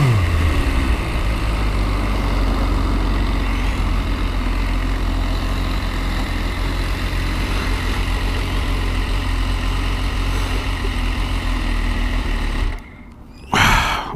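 A 2018 MV Agusta Dragster 800RR motorcycle being ridden, its engine droning steadily and loudly with constant wind rush throughout, then cutting out abruptly near the end before a brief return of noise.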